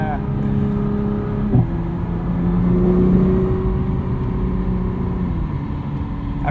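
A 2021 Nissan GT-R Premium with a sequential dual-clutch gearbox accelerating under building turbo boost, a steady engine drone that swells and holds from inside the cabin, one brief bump near the start.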